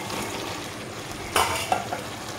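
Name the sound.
stir-frying veg biryani with masala and fried potatoes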